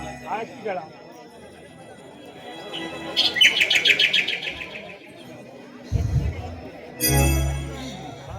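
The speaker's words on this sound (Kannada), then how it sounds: "ಆ ಅಕ್ಕಿಗಳ ಮಧುರವಾದ ಗಾನ ಕೇಳಿ ನನ್ನ ಕಣ್ಣುಗಳಿಗೆ ರೋಮಾಂಚನಗೊಳಿಸುತ್ತದೆ." Birds chirp in a quick, bright trilling run midway through, fairly close and clear, set among other background sounds and a low murmur.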